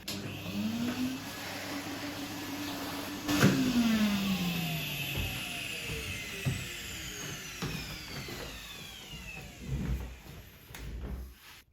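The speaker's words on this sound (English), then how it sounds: "I'm going to have to hoover that up first." A vacuum cleaner hoovers up excess model railway ballast, its quiet motor whining and shifting pitch as it sucks, with scattered clicks and rattles of loose grit being pulled in.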